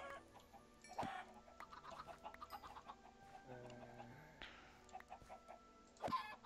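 Chickens cluck in the Minecraft game, soft intermittent clucks with a few louder squawks scattered through quiet background game sounds.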